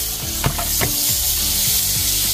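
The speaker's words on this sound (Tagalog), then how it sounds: "Nagsaute tayo ng bawang." Garlic and onions sautéing in a large pot for arroz valenciana, a steady close sizzle and crackle with a few clanks of stirring, no voices.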